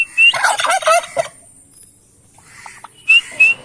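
Turkeys on a poultry farm gobble in two loud, rattling bursts, a long run at the start and a shorter pair near the end, with a quiet gap between and no talk.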